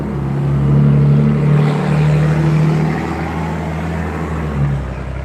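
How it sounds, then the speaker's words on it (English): A tow truck drives past, its engine droning loud and close with a low, steady hum that swells, eases, then rises briefly again as it goes by. "Tow truck."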